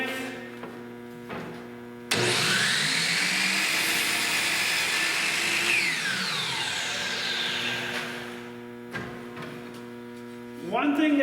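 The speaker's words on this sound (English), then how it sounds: "Wait for the saw to come to a complete stop. We're cutting this the exact same length." A saw spins up, cuts through a wooden face frame rail, and winds down, giving a loud steady whine for several seconds against a background hum, with faint clicks before and after.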